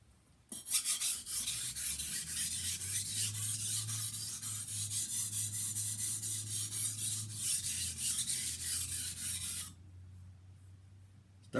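A knife blade being sharpened on a 400 grit whetstone, a close, continuous gritty rasping stroke lasting several seconds before stopping abruptly, with no talk.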